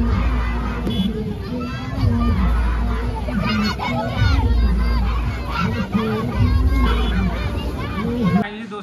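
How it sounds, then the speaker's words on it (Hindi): A large, dense crowd at an Eid Milad un Nabi procession in Kushinagar, full of loud shouting and children's voices, with chanting and excited chatter continuing throughout. "कितना भीड़ है यहाँ पे।"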